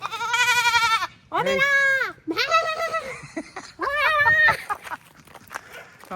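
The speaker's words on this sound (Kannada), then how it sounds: "ಕುರಿ ಮರಿ, ಆಡು ಮರಿ, ಇದು ಆಡು ಮರಿ." A young goat kid bleats loudly and close up in four wavering calls with short gaps between them. Faint low background noise sits underneath.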